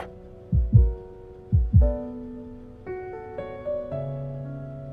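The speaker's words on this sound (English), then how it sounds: "can you hear my heartbeat?" Heartbeat sound effect from the Love and Deepspace game: two pairs of deep, thudding double beats early on, followed by sustained tonal hum and soft musical notes, with no speech.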